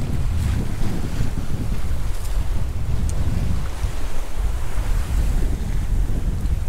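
Steady wind rushing across the microphone aboard a sailboat under sail in shallow waters with sandbanks, with dense low rumble and water wash underneath, continuous and loud throughout with no talking.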